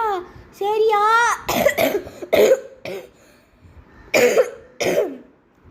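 Several harsh coughs burst out close up, mixed with a voice and some throat clearing.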